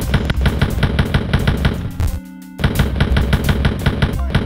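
Rapid machine gun fire from enemy guards in Wolfenstein 3D, a loud, steady chattering stream of retro game shots that pauses briefly midway before resuming.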